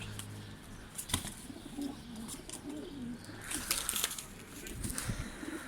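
A young male bird, likely a pigeon or dove, calls with soft cooing notes over a steady low background hum, with a few brief wing flaps and rustles close by.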